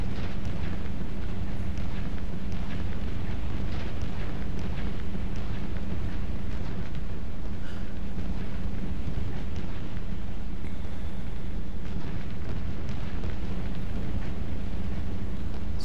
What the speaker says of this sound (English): It's a lot of AAA up here.